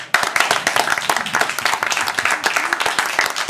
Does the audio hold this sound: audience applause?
yes